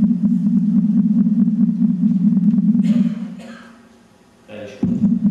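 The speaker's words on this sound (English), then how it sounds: "this is what we call an acoustic spectrum of the sun, and it sounds like this" The acoustic spectrum of the sun, turned into sound, gives a steady low droning hum with a rapid ticking pulse. Brief bright noisy bursts cut across it, then the drone drops away and returns.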